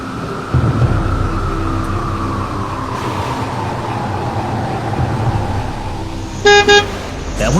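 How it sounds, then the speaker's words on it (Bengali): A cartoon bus rumbles steadily closer, its engine drone filling the scene, then near the end it gives two short, loud honks. "এমন সময় লক্ষ্য করলাম উল্টো দিক থেকে একটা বাস আসছে।"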